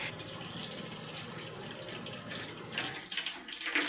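Hot water pours steadily into a large baking dish set up as a water bath for a soft yogurt cake, a continuous close splashing stream that grows brighter and more turbulent near the end, with no voices.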